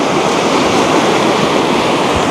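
Close, loud rushing of a mountain river in New Mexico, a continuous dense roar of churning water with no pauses and no voices over it.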